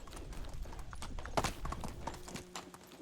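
Horse hooves clip-clop along a road in Medieval Dynasty, a soft, steady rhythmic trot that stays fairly quiet and close.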